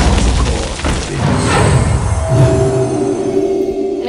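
An Arcane Explosion spell effect from the Hearthstone card game bursts out as a loud, booming magical blast with a whooshing swell, then fades into a lingering shimmering ring.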